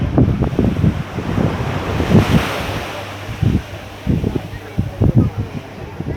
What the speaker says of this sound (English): This is the West Coast Beach here.